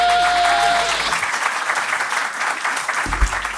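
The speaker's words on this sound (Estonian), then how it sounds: "Teeme Ratase kohvile aplausi ka, kuule" An audience applauds at a live comedy show in a steady, dense wash of clapping that carries through the whole stretch, with a faint voice and a low thump near the end.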